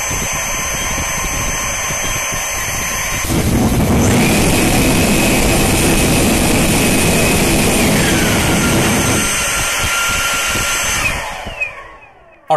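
Electric ducted fan with an afterburner flame, throttled up to about 40% on the primary fan: a loud, close, steady jet-like roar with a high whine that rises and then shifts before winding down at the end.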